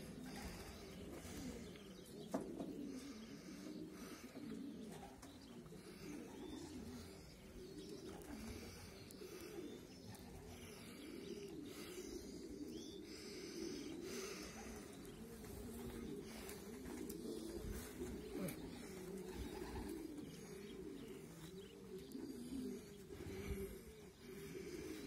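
Pigeons coo at a racing loft as birds come back from a 200 km race, with continuous low, murmuring coos and light rustling at close range throughout.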